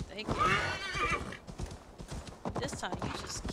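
In Assassin's Creed Valhalla, a horse whinnies loudly at the start, then hooves clop in a quick galloping rhythm, with a voice talking over the sounds.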